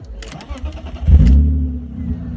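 A BMW E36 engine cranks and fires at about one second, settling into a loud, close, steady idle rumble after a short burst of revs, with voices talking beforehand.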